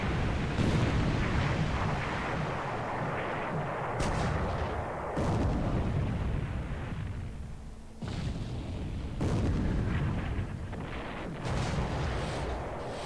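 Naval gunfire hits in the War in the Pacific video game, Repulse's main battery firing during the Battle of Singkawang, heard as a dense, continuous roar of loud booming blasts that surge and fade repeatedly.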